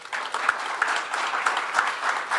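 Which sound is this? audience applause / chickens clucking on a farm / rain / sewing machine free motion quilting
audience applause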